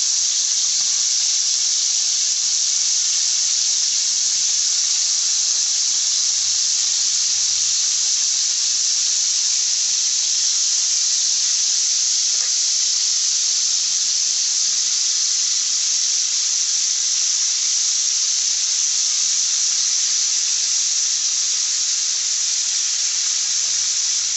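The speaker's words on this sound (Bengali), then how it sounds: "মাখানোর পরে আমি ভেজে নিচ্ছি" Broiler chicken marinated with lemon juice, salt and turmeric frying in oil produces a long, even, close hiss of sizzling. It holds without pause or voices for the whole stretch.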